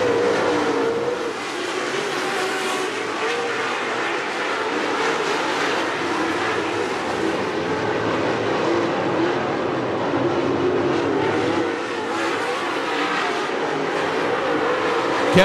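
Late model race cars circling Attica Raceway Park during an A-main, a steady loud roar of multiple engines held throughout with slight swells as the pack passes, no voices.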